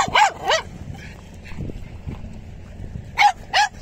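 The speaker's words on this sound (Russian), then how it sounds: "Чья это собака?" A dog barks in two short pairs, a couple of sharp yaps at the start and two more near the end, with quiet background noise between.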